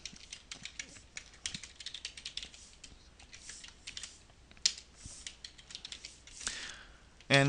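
Rapid clicking keystrokes on a computer keyboard as code is typed, irregular bursts of close, crisp taps with brief pauses, ending in a louder clatter.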